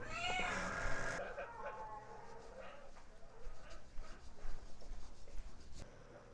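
A single drawn-out cat meow up close, followed by quieter household rustling and faint clattering.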